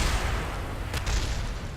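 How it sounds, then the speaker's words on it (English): A rocket blows up in the Kerbal Space Program video game, giving a short, rumbling booming burst with a sharp crackle partway through, over a low, continuous roar. "Explosion number 2 for episode 13."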